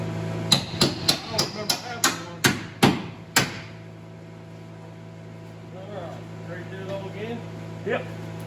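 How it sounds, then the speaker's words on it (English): Eight sharp, evenly spaced hammer blows ring out on car bodywork during a seat install, followed by quieter shop noise and brief talk. "Grab a hammer and hammer on it."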